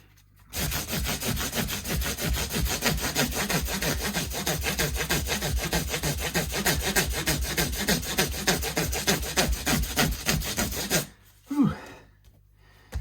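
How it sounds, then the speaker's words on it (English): Vigorous back-and-forth scrubbing on the bridge area of a counterfeit Les Paul copy guitar, a steady rapid rasping rub sustained for about ten seconds up close, then stopping abruptly. "As you can see, it's quite a vigorous scrub"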